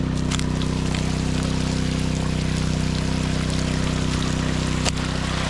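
Water rushes steadily through a high banker sluice while prospecting for gold, a constant close-up gush over a low droning hum, with no pauses and no talk.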